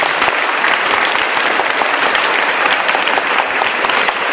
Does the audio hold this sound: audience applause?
yes